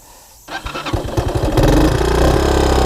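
A 1987 Honda TRX125 ATV engine under repair cranks and catches after a short quiet start, then runs with a loud, uneven putter that settles into a rough, steady idle, heard close up.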